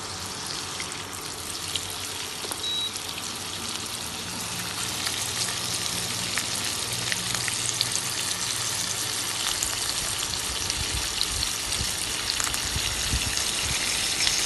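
Chicken wings cook slowly in a pan with a continuous crackling sizzle that grows a little fuller and denser after the first few seconds, close and steady with no talk.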